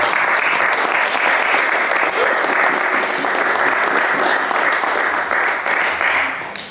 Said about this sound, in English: So I'd love it if you could all give her a round of applause.